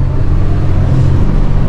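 Cars pass on a road in a steady, close, loud low rumble of engine and tyre noise, with no break in it and no voices.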